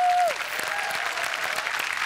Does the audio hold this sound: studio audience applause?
yes